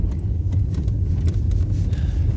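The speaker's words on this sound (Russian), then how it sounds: "Едем по какой-то заброшенной дороге." A Hyundai car drives over a rough, abandoned road, giving a steady loud rumble of tires and suspension with small bumps and knocks throughout and no talking.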